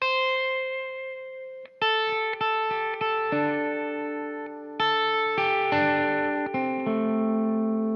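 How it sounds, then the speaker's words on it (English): An electric guitar plays a lead line through distortion and delay, with notes and sustained chords overlapping into an ambient, echoing wash. "So I've got a little bit of distortion and a little bit of delay."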